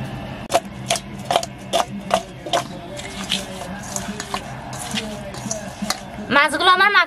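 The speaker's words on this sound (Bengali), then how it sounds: "এখন ভালোভাবে মাছগুলো মাখিয়ে নেব।" Bare hands mixing small river fish with turmeric, dry chili powder and salt in a village kitchen, giving repeated wet squishing and slapping strokes in a steady rhythm, close up, with a brief voiced sound near the end.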